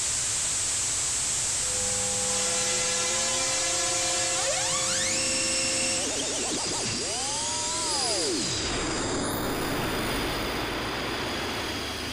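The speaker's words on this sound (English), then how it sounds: "It turns off the riser device and plays a white noise thing." A synthetic rising sweep of tones and noise builds steadily, then gives way to a bright, sustained wash of white noise.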